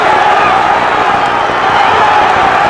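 A large boxing crowd roars loudly and steadily at ringside after a punch by Woodhall of Telford, England, a dense, continuous wall of cheering and shouting with no clear pauses.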